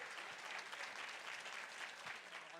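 An audience at a Gatineau awards gala, the RAF 2023 Podium, applauds an honouree with dense, steady clapping that fills the whole stretch at an even level, no voices rising above it.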